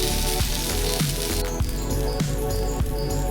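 Akki roti frying in oil on a hot pan gives a loud, steady sizzle and crackle, with soft irregular pops and scraping taps running throughout.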